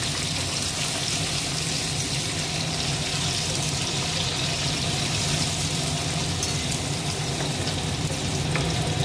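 Tomatoes and green chillies frying in a pan of oil while cooking a village-style curry, a dense continuous sizzle with a low background rumble that runs steadily for about nine seconds, with no talking.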